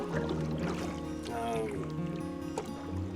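A solo canoe paddles on Pemadumcook Lake, with soft close paddle splashes and dripping water over a low background rumble.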